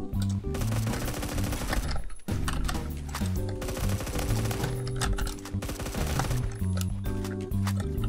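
Automatic fire from a BCT carbine in Phantom Forces: rapid, loud, close bursts of gunshots with short pauses between strings of fire, no speech.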